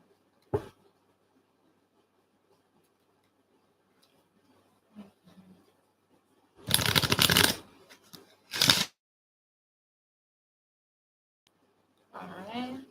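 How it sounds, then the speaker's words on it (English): Tarot cards shuffled in a few brisk bursts, a longer riffle followed by a shorter one and a later soft flutter, close and fairly quiet amid near silence. "So let me shuffle these."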